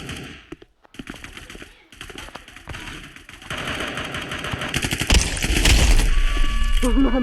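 Rapid automatic gunfire and shots from the Blockfield 5v5 shooter video game, bursts growing denser and louder toward the end amid busy game effects, with brief voice sounds earlier.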